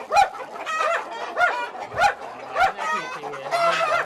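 Chickens at a local breeding poultry farm cluck and squawk in repeated bursts, close and loud, with a rooster-like call among them and faint voices underneath.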